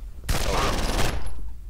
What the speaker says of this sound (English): I have a submachine gun.